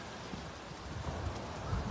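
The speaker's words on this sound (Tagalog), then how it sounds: "Grabe ang hangin dito ngayon." Strong wind blows outdoors as a continuous rough rush, rising slightly toward the end, with no voices present.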